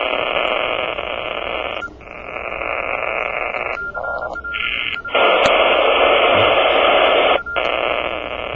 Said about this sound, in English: this noise is up on 50 megahertz?